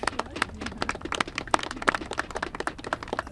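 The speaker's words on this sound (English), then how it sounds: "Let's give them a round of applause for their courage." A press-conference crowd claps for survivors, with sharp, distinct hand claps overlapping in a brisk, uneven patter that holds steady throughout.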